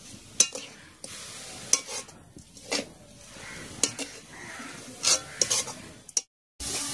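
A spoon stirs a thick, sticky papaya sweet mixture for laddu as it cooks in a pan over a village kitchen fire, with a soft ongoing sizzle and occasional sharp scrapes and clinks against the pan.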